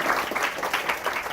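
Audience at a church charity gathering clapping along in a quick, lively rhythm, a short burst of many hands with regular pulses.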